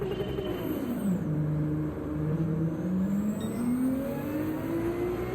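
A race car pulls off the starting line in Gran Turismo 7, its engine revving up through several gear changes with rising and falling pitch, loud and continuous alongside other cars.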